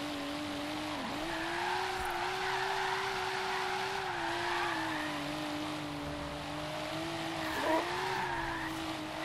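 A Rocket Bunny Boss V2 Nissan Silvia S15 drifts in the Forza Horizon 3 racing game, its tires skidding in a sustained squeal over a steady engine drone that shifts pitch slightly through the slide, with no talk.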